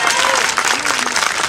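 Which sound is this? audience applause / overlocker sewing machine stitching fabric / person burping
audience applause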